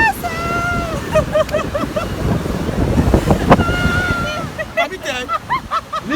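Ocean surf at Lagos beach rolls in with steady wind-blown wave wash, while many people nearby shout and call out excitedly over it.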